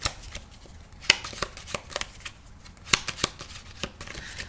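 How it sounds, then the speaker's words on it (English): A deck of playing cards being shuffled up close, with repeated crisp riffling bursts and snaps at an uneven rhythm, with no talk. "So all I'm gonna do is I'm gonna shuffle these cards"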